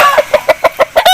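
An aseel rooster, a four-time fighting winner, gives a loud, close burst of rapid clucking calls, about six sharp evenly spaced notes in just over a second, with no voices.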